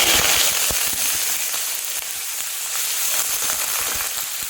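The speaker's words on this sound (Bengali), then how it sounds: "এই পেঁয়াজটা আমি হালকা করে ভেজে নেব।" Chopped onion frying in oil in a kadai with dried red chilli and bay leaf, a hissing, crackling sizzle heard close and steady, with sharp little pops scattered throughout.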